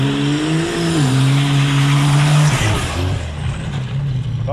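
A Citroën Traction fitted with a bi-turbo V12 engine revs hard and accelerates, a loud, close engine note climbing and then dropping as it shifts, with a brief tyre squeal and no talk.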